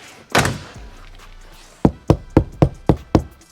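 Knuckles rap on a sound-deadened door panel of a 1983 Chevy C10 squarebody truck: one dull knock, then a pause, then six evenly spaced, solid thuds up close with no rattle or ring.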